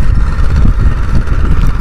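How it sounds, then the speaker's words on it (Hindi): An old Escort 335 tractor engine runs hard, pulling a tiller with both levers engaged, with a loud, steady diesel chug and clatter held close throughout without dropping revs. "भाइयों थोड़ा बहुत धुआं तो दे रहा है लेकिन ट्रैक्टर RPM नहीं तोड़ रहा"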